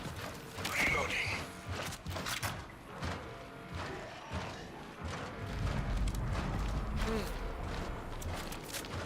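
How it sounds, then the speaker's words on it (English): A gun being reloaded in a video game: a run of mechanical clicks, creaks and thumps in quick succession, close and moderately loud, over a busy background of game noise. "Reloading."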